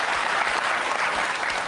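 Audience applause in a recorded Christopher Hitchens debate: a full hall clapping steadily and loudly for a short burst, dense and even, with no talk over it.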